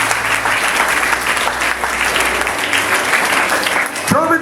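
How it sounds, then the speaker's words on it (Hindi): Audience applause for schoolchildren at a school annual report card and prize distribution day, steady loud clapping from a crowd lasting throughout, with a brief voice near the end. "एक बार अपने इन बच्चों के लिए ताली जरूर बजा दीजिए"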